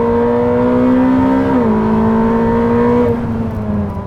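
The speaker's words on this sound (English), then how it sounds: "I hope how deep that V8 sounds is coming through on the camera audio." Ferrari SF90 XX V8 revving hard on the Fiorano track, a loud, steady, deep engine drone that dips in pitch midway and holds, with no talk over it.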